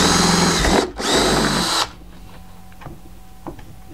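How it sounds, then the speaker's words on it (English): A power drill whines loudly and close while boring a hole in a methanol flush tank, running steadily in two bursts split by a brief dip, then stopping and leaving faint clicks and handling noises. "I'm going to drill in this location right here."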